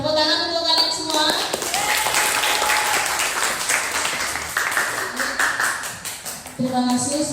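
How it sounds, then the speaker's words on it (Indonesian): Schoolchildren in a classroom clap together for several seconds, a dense patter of applause framed by a teacher's voice at the start and end. "Tepuk tangan untuk kalian semua."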